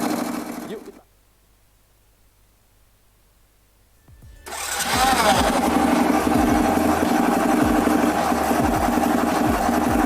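A motorcycle engine idles after a valve clearance adjustment, a steady close ticking run with rapid rhythmic pulsing, following a brief earlier burst of engine noise and a stretch of near silence.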